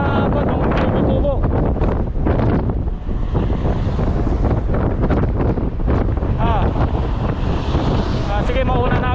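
Strong wind roars across a microphone during a bike ride amid a sandstorm, a dense, continuous, loud rumble with constant buffeting that never lets up, while a rider talks beneath it.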